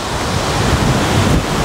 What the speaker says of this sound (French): Le vent s'est levé, il est vraiment très très fort